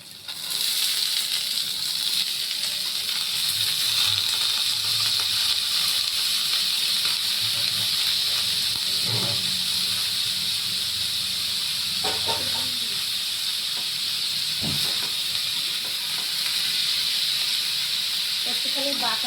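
A chopped ingredient sizzles steadily in a hot pan, a continuous loud hiss running throughout, with a few faint clinks and brief background noises.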